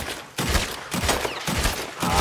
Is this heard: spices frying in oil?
no